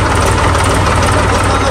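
A Ford 3600 tractor engine runs steadily at a constant idle-like pace, a loud, dense rumble with a low throb that holds unchanged throughout.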